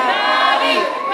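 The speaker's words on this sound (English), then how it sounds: "the fans continue to cheer and chant Patty's name" A wrestling crowd cheers and chants in a steady, dense roar of voices with tonal chant-like bands, continuous and loud throughout the short stretch.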